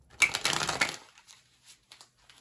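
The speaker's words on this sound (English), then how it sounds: "Okay, I'm going to shuffle a little bit more here." Tarot cards are shuffled close up in a dense riffling burst lasting about a second, followed by a few faint soft taps and slides of the cards.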